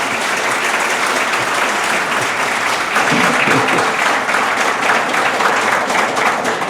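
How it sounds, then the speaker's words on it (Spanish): Loud, sustained applause from an audience filling a lecture hall at a presentation, dense steady clapping that swells slightly midway and carries on throughout. "Un aplauso para ellos."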